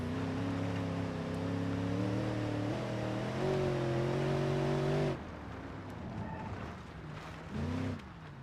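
A truck engine revs in the video game BeamNG.drive, a steady droning growl that climbs slightly in pitch for several seconds, then drops away to a rougher idle with a brief second rev near the end.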